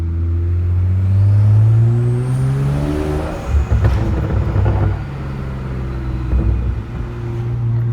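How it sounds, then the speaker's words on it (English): A car on stock turbos with a stage 3 tune revs up, its engine rising in a loud, close whir and rumble as the turbos spool, then dropping back to a lower drone. "let's get a nice little spool. Let's see how she spools up, huh?"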